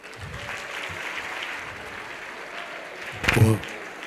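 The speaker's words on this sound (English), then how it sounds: "Can you please give him a round of applause?" An audience at a youth empowerment event applauds, a moderate, steady patter of clapping with a brief louder burst near the end, likely with a voice rising over it.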